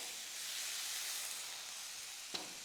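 A steady, broad sizzle and hiss of water splashed onto vadis frying in a hot pan, fairly constant, with a single faint tap near the end.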